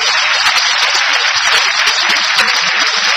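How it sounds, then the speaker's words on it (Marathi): Strong, steady applause from a studio audience for two singers after their song, a dense continuous wash of clapping, loud and even, with no clear talking. "मला वाटतं एकदा जोरदार टाळ्या या दोघांसाठी झाल्याच पाहिजे"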